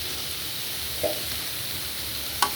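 Cumin powder and coriander powder being stirred into egg fried rice in a hot pan, giving a steady low sizzle with a soft scrape near the middle and a sharper clink of the utensil near the end, with no talking.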